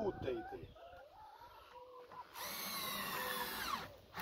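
A power drill whines in a carpentry workshop, its steady motor tone rising and running continuously for the second half, while people talk over it and chickens cluck nearby.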